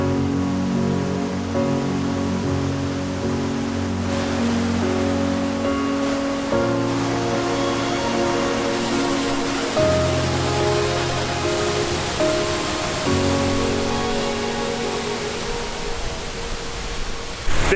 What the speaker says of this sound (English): and on the other side is the waterfall.